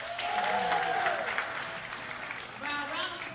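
A university classroom audience claps together in a short burst, with scattered voices and cheers mixed into the applause before it thins out and briefly swells again.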